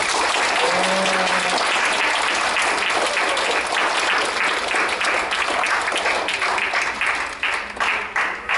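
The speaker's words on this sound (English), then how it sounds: "Let's give a round of applause for everyone who gave us talks today." A youth group audience at a retreat in Richmond, Virginia gives a loud round of applause for the day's speakers, with continuous, dense clapping throughout.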